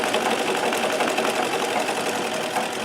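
A Singer 237 sewing machine runs fast in a continuous high-speed whir, while the table under it rattles along with everything resting on it, steady and close with no voices.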